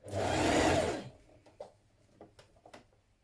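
About a second of fast, whirring machine stitching sews a band seam on a Style Arc Fenix sweatshirt, then stops, leaving only soft handling noises and light taps.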